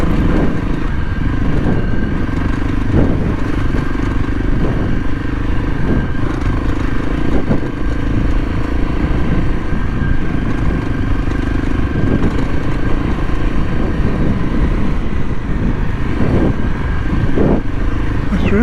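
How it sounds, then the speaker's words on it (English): A dirt bike engine putters steadily at low revs as it is ridden slowly over damp, sticky, slippery earth, a loud and continuous close-up drone with slight throttle variations and some rattling. "Really is a great little bike."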